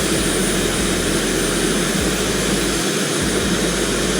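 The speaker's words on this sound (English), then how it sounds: "we got our both of the engines rolling up" Twin jet engines of a Zibo Boeing 737 in the X-Plane flight simulator spool up, a loud continuous broadband roar with a steady whine and no talk.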